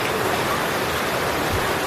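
Someone wades through knee-deep flood water in a flooded neighborhood, a continuous, fairly loud rush and slosh of water with no pauses and no voices.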